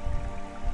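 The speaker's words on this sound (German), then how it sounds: "Hier haben wir eine natürliche Quelle." Water from a natural spring running out of a hillside in deciduous woodland, a short stretch of soft dripping and trickling close by, with no voices.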